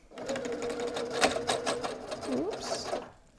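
A sewing machine with its bobbin put in backwards runs in a short steady burst, a close mechanical whir and rattle that ends with a brief whine as it stops.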